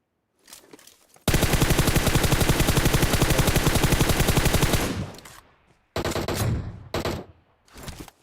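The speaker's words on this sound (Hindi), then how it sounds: "ऐसे डराने के लिए मैं गोली चला देता हूँ गाड़ी पे" Sustained rapid automatic gunfire at a vehicle in PUBG Mobile rattles loudly for several seconds, then stops and gives way to a few shorter bursts of shots.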